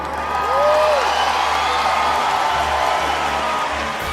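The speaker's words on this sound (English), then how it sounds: "The crowd goes wild. A standing ovation." A large awards-ceremony audience at the Shrine Auditorium in Hollywood applauds and cheers, a loud, dense wash of clapping with a whoop rising early on, sustained and even throughout.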